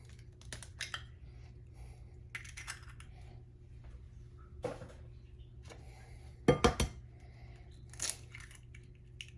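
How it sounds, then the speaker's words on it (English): Eggs going into a mixing bowl for Italian beef meatballs in a home kitchen: soft knocks and clicks spread through a quiet room, with a brief, louder cluster of cracking and clattering near the end. "Put my eggs in."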